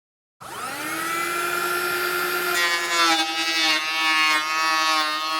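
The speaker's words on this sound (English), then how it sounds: "First pass on the planer" A planer running steadily as it makes a pass over wooden sauna bench boards, with a loud sustained whine and grinding hiss that roughens as the blades bite into the wood, no talk over it.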